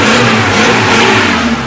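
Suzuki Jimny 4x4 off-road vehicle engine just started and revving, a loud, close, throaty mid-range drone that rises and holds steady before easing slightly at the end, with no talking.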